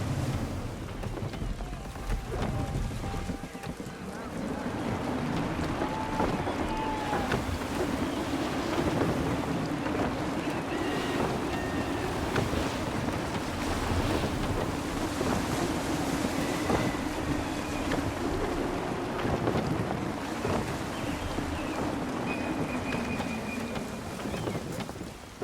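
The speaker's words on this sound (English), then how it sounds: "Wind looks to be shifting. Stay alert, Connor. Gusty winds can be difficult to manage." Steady rushing wind with wave and hull noise while sailing a ship in Assassin's Creed 3, a continuous broadband roar that swells slightly in gusts, with faint creaks and tones above it, no talking.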